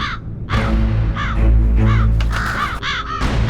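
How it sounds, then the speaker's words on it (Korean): Several crows caw in a mountain forest in Korea, loud, repeated harsh calls close by, overlapping over a low rumbling background, with no talking. "까마귀는 거대한 포식자의 주변을 맴돌고 있다가 그 움직임을 먼저 알아채죠."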